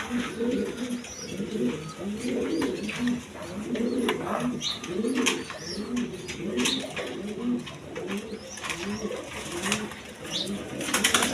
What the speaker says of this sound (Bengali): আপনার কালারিং রাসগোল্লা কবুতর একদম বড় সাইজের